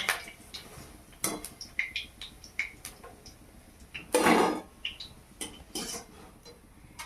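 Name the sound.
fried prawn pakoras being lifted from oil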